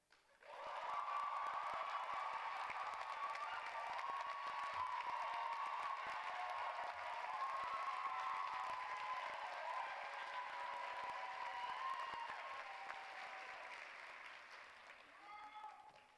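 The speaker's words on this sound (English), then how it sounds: "Now please give a round of applause to Samara." Sustained applause from a crowd at a college graduation ceremony, steady and dense for the full length, tapering slightly near the end.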